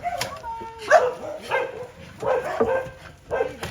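Rescue dogs at a dog shelter bark in short irregular bursts, several dogs yipping and whimpering at close to mid distance, with faint voices mixed in.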